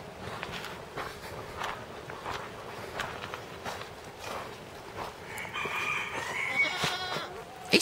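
Chickens in a heated coop cluck and crow at a moderate distance, with footsteps shuffling nearby and a louder burst of squawking near the end.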